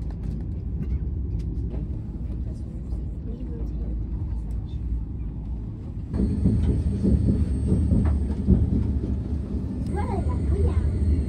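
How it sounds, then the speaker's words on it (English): Steady low rumble of a train rolling along rails into Toulon, France, growing louder and brighter partway through with a high metallic whine, and faint voices in the background. "The train pulled into Toulon on time"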